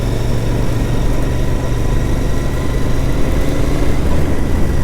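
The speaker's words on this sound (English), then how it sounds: "just listen to that parallel twin engine. It sounds so good." A Royal Enfield GT650 parallel-twin motorcycle engine runs with a steady, low, droning exhaust note that holds even and fairly loud throughout, with no talk over it.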